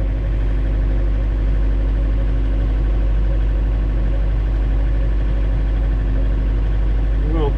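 A GMC C3500HD haul truck's engine runs at a steady idle, a constant low drone with a deep hum throughout and no break in the sound.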